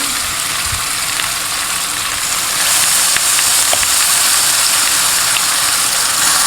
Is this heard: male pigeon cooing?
no